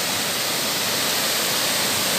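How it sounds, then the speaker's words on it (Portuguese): A waterfall pouring into a rocky pool, a dense, even broadband rush that stays loud and constant throughout. "Mais uma queda d'água"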